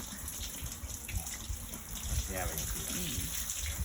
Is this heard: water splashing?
yes